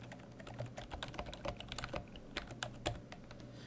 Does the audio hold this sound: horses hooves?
no